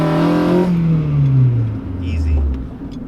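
8th-gen Honda Civic Si engine with a short shifter revs hard in first, drops pitch through a quick shift into second, then pulls again, loud and close inside the car.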